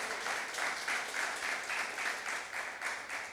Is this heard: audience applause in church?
yes